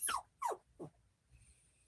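An indoor dog gives three high, falling whines in quick succession, close by. The cries grow shorter toward the end and are followed by quiet room noise.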